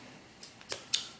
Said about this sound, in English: take your scissors and just punch a hole here